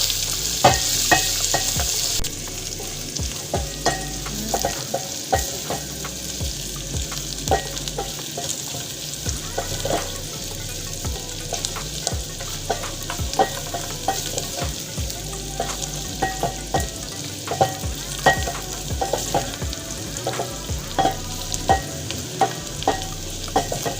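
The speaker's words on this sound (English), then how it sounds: "go ahead and add in your onions, and fry them until they are translucent or golden fry" Onions fry and sizzle in a hot pan for a beef wet fry, a steady close hiss broken by frequent scraping stirs, with no voices.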